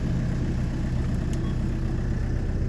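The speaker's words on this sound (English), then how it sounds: "Start the car up, there's no issue with engine lights" A 2007 Hyundai Terracan 2.9 diesel with 109,000 miles idles steadily, a continuous low, rough engine rumble heard close up with no talking over it.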